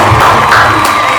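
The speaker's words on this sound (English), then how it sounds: "let's give him a round of applause" A crowd at a boxing event cheers and whoops in a dense, steady roar for promoter Eddie Hearn, loud and continuous throughout.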